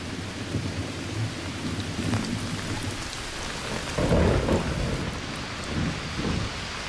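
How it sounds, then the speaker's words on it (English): Heavy rain pours steadily on a dry forest while deep thunder rumbles, swelling to a louder roll midway, with no voices present. "The annual storms drench the dry forest."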